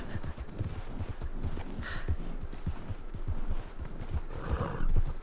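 Horse hooves clip-clopping in a quick, steady rhythm in Red Dead Redemption 2, with a brief whinny breaking through over the running gait; the hoofbeats stay close and moderately loud.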